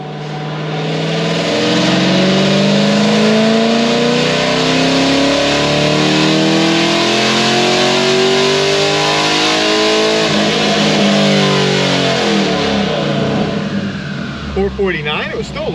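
A cammed V8 in a Chevy SS with straight-piped exhaust and no mufflers revs loud and close, its choppy lumpy note rising and falling through the clip before tapering off near the end.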